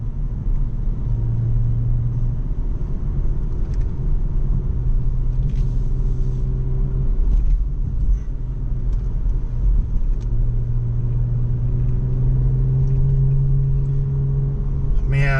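BMW M440i xDrive Coupe on a curvy town road, its engine rumbling steadily from inside the car and swelling in several repeated pulls as it accelerates out of bends; a low voice may be faintly present.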